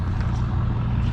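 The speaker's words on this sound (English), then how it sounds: "Here's another open flywheel engine." An old open flywheel engine, about a horse and a half, runs at an equipment auction with a close, steady low-pitched rumble and a chugging drone that holds evenly throughout.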